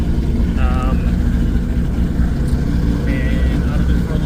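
A rebuilt Toyota 2JZ engine runs steadily after its first start, a loud continuous low rumble close by with faint voices briefly audible over it.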